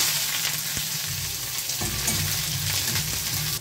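Chopped onions and nigella seeds frying in oil in a pan for an egg and poppy-seed curry, a steady close sizzle with occasional scrapes of a stirring spoon, no talking.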